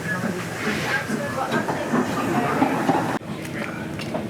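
A steam train rolls along the rails with a steady rumble and faint rhythmic clacking, while voices murmur over it.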